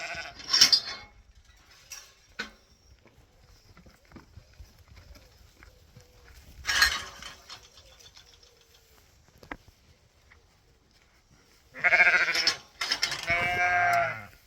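Young ewes bleat in a farm building meant to house 30 lambs, with a few brief calls near the start, one in the middle and a louder cluster toward the end, set against a quiet shed with light mechanical background noise.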